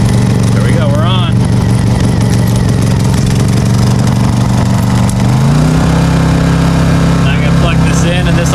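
A Black Series portable generator converted to run on propane idles steadily close by, a low, even engine drone that settles into a slightly higher pitch partway through, with a person talking over it.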